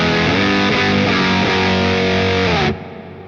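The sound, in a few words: electric guitar chords through a fuzzy distortion drive pedal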